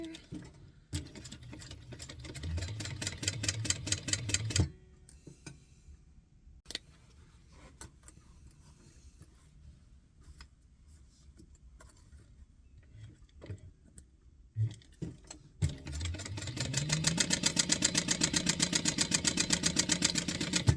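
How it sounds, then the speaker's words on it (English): Sewing machine stitching the ends of bucket hat pieces at a half-inch seam allowance, steady fast mechanical ticking in two runs at the start and end, separated by quiet handling noises, close and moderately loud. "so we're just gonna sew these together"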